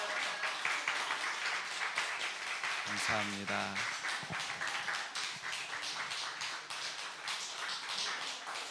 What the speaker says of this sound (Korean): 우리 힘찬 박수 부탁드립니다